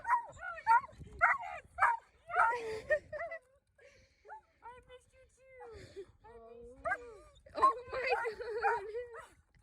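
A dog makes short yips, whimpers and soft barks in bursts, mixed in with people talking nearby at close range.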